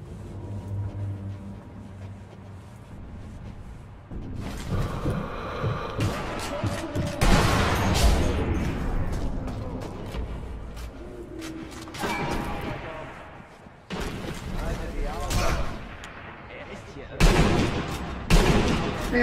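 Gunfire in the video game Sniper Elite V2, with bursts of rapid shots and heavy booms in several loud clusters, mixed with game noise and brief quieter gaps.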